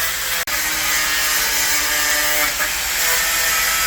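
A power tool whines steadily and loudly as it cuts out an old bumper on a Bombardier vehicle. There is one brief break near the start.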